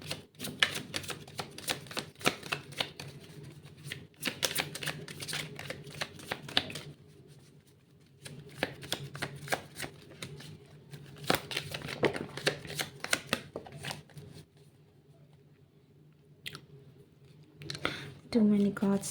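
Tarot cards are shuffled by hand in repeated quick riffling bursts, close and crisp, separated by short quiet pauses, with another flurry of shuffling near the end.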